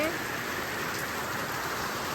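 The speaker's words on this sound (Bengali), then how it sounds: "তারপরে দেখেন কি পরিমাণ বৃষ্টি নামলো" Steady, heavy rain pours down in a dense, continuous hiss, close and loud throughout.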